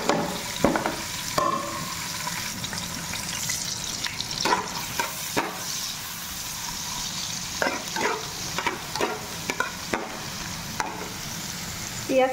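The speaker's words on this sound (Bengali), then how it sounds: "পেঁয়াজ কাঁচামরিচ ভাজতে হবে," Onion and green chili fry in a pan, a steady sizzle broken by repeated scraping stirs of a utensil, close and moderately loud, with no talking.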